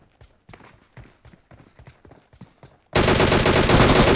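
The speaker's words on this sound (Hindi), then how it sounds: "यहाँ से फायर आ रही है, कोई भाई लगा हुआ है, किसी को मार रहा है" Gunfire in a battle royale video game: a run of quick, soft distant shots and footstep-like taps, then an abrupt burst of loud, dense noise that fills the last second or so.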